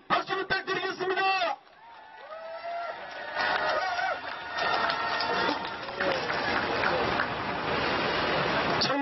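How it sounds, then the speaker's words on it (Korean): At a Jeju election campaign rally, a crowd breaks into loud applause and cheering after a short burst of amplified speech, the broad roar continuing steadily to the end. "힘찬 박수 부탁드리겠습니다"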